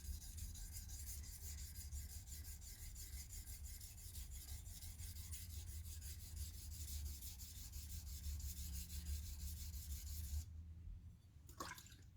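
A knife blade's bevel being polished near the shinogi line on a sharpening stone gives a steady, continuous rubbing rasp for most of the clip, close and fairly loud, then stops abruptly near the end.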